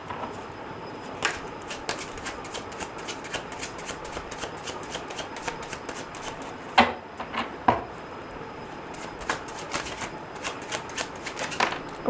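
Tarot cards are shuffled by hand in a steady stream of soft riffling and flicking taps, close and moderately quiet, with a few sharper slaps of the deck and no talking.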